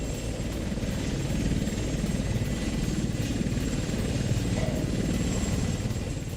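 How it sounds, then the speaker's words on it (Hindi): Pakistani air force attack helicopters fly over Kashmir between Rawalakot and Muzaffarabad, a loud, continuous rotor and engine drone that holds steady throughout without any voices. "रावलकोट से मुजफ्फराबाद तक हेलीकॉप्टर सक्रिय हैं।"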